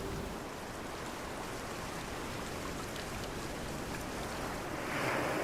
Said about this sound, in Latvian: Jūra rūda.